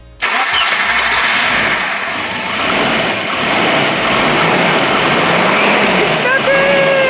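A Volvo 240 GLT saloon engine with an upgraded camshaft cranks and catches, then runs loud and steady close by, with a slight rise in revs near the end.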